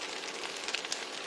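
Chalta chutney with salt and turmeric sizzling in a pan as it is stirred, a steady close hiss with a couple of brief metallic clicks, no voices.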